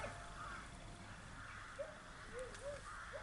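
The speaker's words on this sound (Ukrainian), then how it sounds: "ночують птиць багато, каркають" Crows roosting in riverbank trees by the Dnieper near an island in the evening give a few faint, distant caws against a steady background of outdoor noise.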